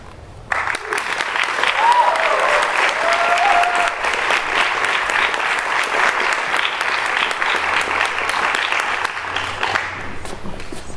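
An audience at a 7th–9th grade declamation contest breaks into loud, sustained applause that starts abruptly and holds as a dense wash of clapping for about ten seconds.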